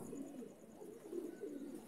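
Soft, low pigeon coos repeat in a steady murmur, close by, with a faint steady hiss in the background.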